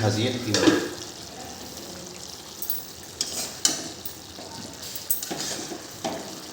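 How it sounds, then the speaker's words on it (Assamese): Chicken meat frying in a pan, cooked until the released water dries off, gives a soft, steady sizzle with occasional stirring scrapes. A voice talks over it now and then. "ইয়াত পানীটো নুশুকোৱালৈকে আমি ভাজি থাকিম"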